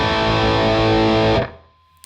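A distorted electric guitar chord rings through a TwoNotes CAB M cab simulator with a 6K treble boost, bright and biting, sustaining loudly before cutting off abruptly into near silence.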